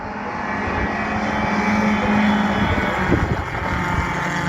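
Vintage racing cars at Castle Donington circuit roar past in a loud, sustained blur of engine noise that swells and fades slightly as they lap, heard from trackside without talk.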